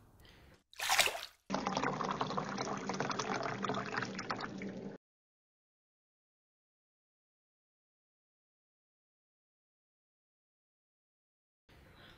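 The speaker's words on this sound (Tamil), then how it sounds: "இப்போ செயினில் இருக்க டஸ்ட் எல்லாம் க்ளீன் பண்ணுறதுக்காக தண்ணி ஃபுல்லாக அப்ளை பண்ணணும்" Water is sprayed onto a motorcycle chain to clean off dust, making a steady hissing splash for about three seconds after a brief burst, then near silence.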